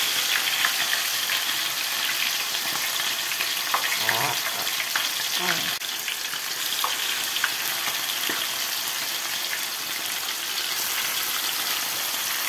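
Food fries in very hot fat, a dense, loud, continuous sizzle and crackle with occasional stirring scrapes and pops, steady throughout with no talking.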